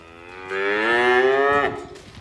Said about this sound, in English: there's all the cows out in the pasture out there.